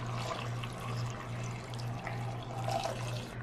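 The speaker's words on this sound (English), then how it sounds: "the last ingredient that we need right now is 3 cups of water" Three cups of water pour steadily into an Instant Pot pressure cooker for a vegan meal, a continuous close splashing rush with a low hum beneath and no speech.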